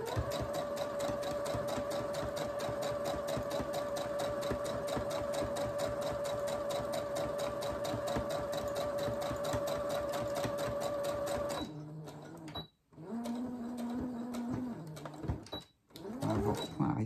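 A sewing machine stitches in a fast steady run for most of the stretch, then switches to short broken bursts with brief stops near the end, close and clear.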